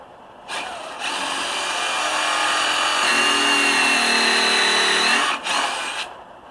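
Power drill boring a pilot hole into a wooden sawhorse, a loud close whine that starts, steadies, deepens in pitch as the bit bites into the wood, then spins down and stops.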